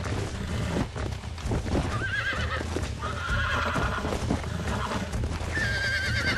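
A horse being broken in within the Western video game Red Dead Redemption neighs and whinnies in repeated high, wavering cries over steady hoof clatter and busy game sounds, loud and close throughout.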